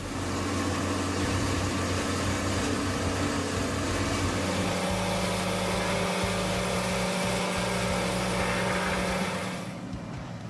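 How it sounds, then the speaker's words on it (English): A Moorebark 1300 tub grinder grinds material, making a loud, continuous mechanical drone whose hum shifts partway through before easing off at the very end. "the Moorebark 1300 tub grinder delivers outstanding productivity, capable of grinding up to 900 cubic yards of material per hour"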